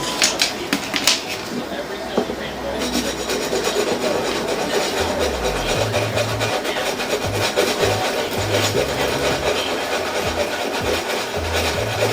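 Alloy differential case for a Rovan RF5 RC car being sanded with fine 180-grit sandpaper, a steady close rasping rub that continues throughout with low rumbling handling noise underneath.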